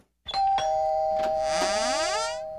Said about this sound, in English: Any interest in a new doorbell?